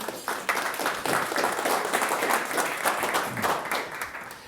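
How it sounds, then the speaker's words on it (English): A conference audience applauds speakers being introduced at an energy and electricity forum, a steady moderately distant patter of many hands that fades slightly at the end. "we'll give them a round of applause to get them going"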